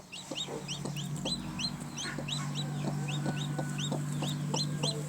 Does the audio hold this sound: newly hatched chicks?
yes